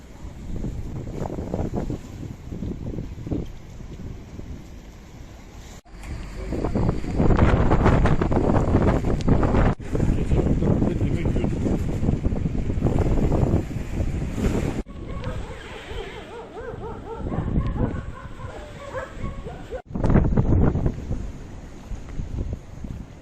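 Strong wind with rain roars and buffets the microphone in heavy gusts at sea, with a rough, blustery rumble throughout and no clear voices.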